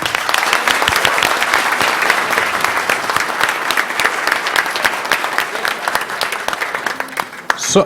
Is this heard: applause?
yes